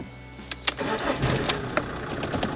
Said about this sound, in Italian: ora proviamo a mettere in moto